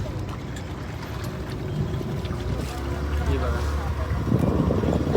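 A boat moves through water near the Gateway of India with a steady low rumble and wash, gradually growing louder, with wind buffeting the microphone and faint voices.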